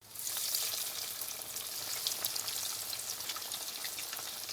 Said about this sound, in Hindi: अब हम दोनों साइड से कबाब गोल्डन फ्राई करेंगे।